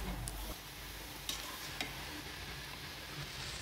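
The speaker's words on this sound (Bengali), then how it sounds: "এই পাশে কাঠের চুলায় লাউ চিংড়ি রান্না হচ্ছে" Shrimp and bottle gourd cook in a pot over a wood-fired stove, giving a soft steady sizzle with a few sharp clicks of stirring, fairly quiet and without speech.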